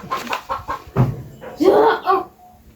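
A voice imitates a chicken's clucking in a children's counting game, with several short syllable bursts followed by a louder, drawn-out call close to the microphone.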